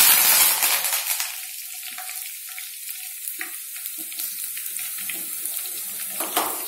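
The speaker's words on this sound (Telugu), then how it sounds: "ఇప్పుడు మన మటన్ బాగా ఫ్రై అవుతుందండి." Mutton with garlic, curry leaves and tamarind leaves sizzles and fries in a pan. The soft, steady crackle is broken by scraping stirs, close and alone with no talk.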